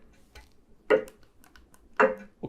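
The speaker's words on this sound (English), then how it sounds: "A ticking clock." Ticking-clock setting on a MOICO white noise machine: two loud, crisp tocks about a second apart, with softer ticks between them, heard alone up close.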